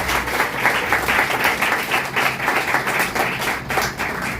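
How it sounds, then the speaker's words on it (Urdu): A church congregation gives loud, sustained applause for the fathers during a pastor's service, with dense clapping that swells and dips in steady waves throughout. "زوردار تالیاں سارے فادر کے لیے"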